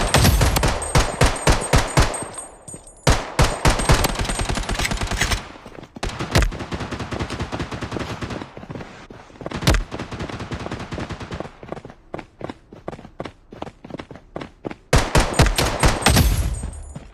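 Rapid bursts of automatic gunfire and single shots from a mobile shooting game, loud and close, coming in dense volleys with short gaps and sharp individual cracks between them.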